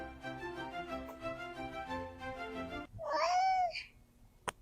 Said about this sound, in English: I'm trying to get my cat to talk into the microphone